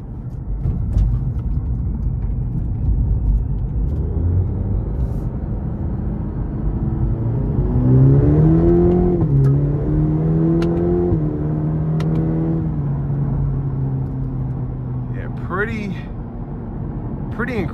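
A 2023 Cadillac CT4-V four-cylinder engine accelerates in track mode, revving up through rising gears with shift dips and a deep, sustained drone heard from the cabin, while a driver talks over it.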